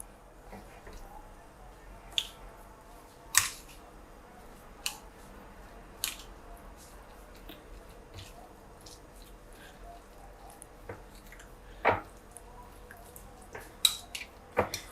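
Shredded cabbage and carrot being tossed together in a bowl for creamy coleslaw, giving soft scattered squishes and crisp clicks at a quiet level, with no talk over them.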